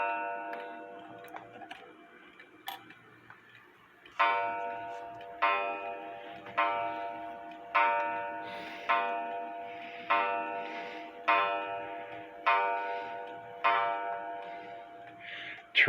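An H.Th. Mylius German regulator wall clock ticks softly, then gong strikes ring out at a regular pace, each one a bright metallic tone that decays before the next. The sound is close and indoors, with no talking.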